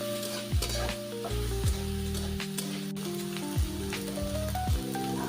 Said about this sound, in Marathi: आणि त्याला आपण थोडंसं परतून घेणार आहोत